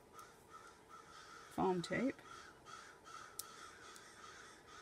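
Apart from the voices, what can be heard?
crows cawing outside a window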